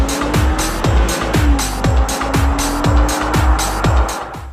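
An Infiniti FX37 on 21-inch wheels driven fast, with a loud engine roar and a steady stream of regular rhythmic thumps throughout, tire noise mixed in, close and without talk.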